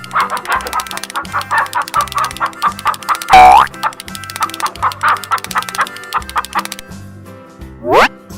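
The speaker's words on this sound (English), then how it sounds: "Rooster." Cartoon rooster crowing and clucking amid a bouncy nursery-rhyme tune, with a springy boing and a rising crow-like sweep near the end, all loud and busy.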